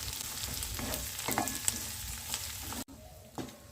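Vegetables and crushed ginger fry for upma with a steady soft sizzle and occasional stirring scrapes, close and quiet, briefly dropping off near the end before a last stir.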